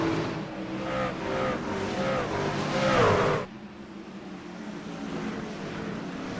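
Pack of NASCAR Truck Series pickups racing closely bunched at Richmond, a loud sustained engine roar with shifting pitch that cuts off abruptly midway, leaving faint background noise.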